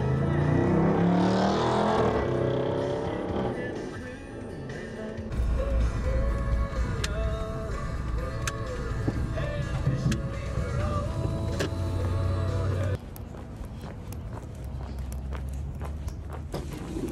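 A car drives over a very rough, bumpy road, giving a continuous close rumble with shifting road noise and rattling jolts that change character partway through.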